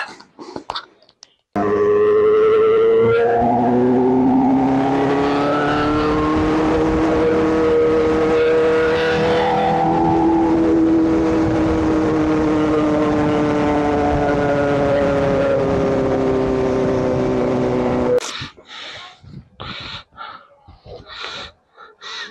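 A Saba motorcycle engine drones steadily while riding, a loud continuous hum whose pitch rises and falls gently for about sixteen seconds, framed by brief rustling wind bursts at the start and end.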